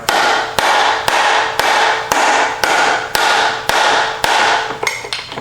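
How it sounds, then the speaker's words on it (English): A series of about ten heavy, evenly spaced strikes from a soft dead blow hammer on a Johnson 25hp outboard, dull thuds that ring briefly, close and loud, ending with a few quicker lighter taps. "This is a soft dead blow type of hammer."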